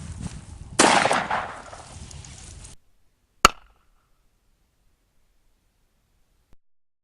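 .357 revolver gunshot with a short barrel: a hissing burst and a sharp single crack, then near silence with one faint later tap.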